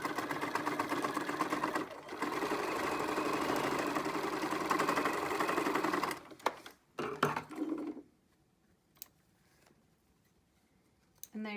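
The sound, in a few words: sewing machine stitching a fabric face mask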